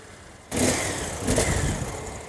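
A Victory Vision motorcycle on its stock exhaust idles quietly, then abruptly roars into a loud rev at about half a second, swelling again briefly before easing off, close by with no voices.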